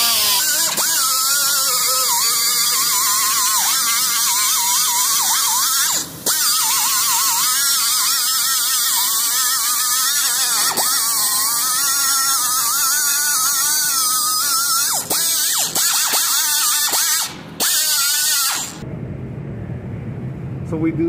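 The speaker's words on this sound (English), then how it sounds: "I think he's doing it with the grinder." A grinder sands a Beechcraft Bonanza aircraft down to bare metal, making a loud, steady high whine with a few brief dips that cuts off just before the end, leaving quieter room noise.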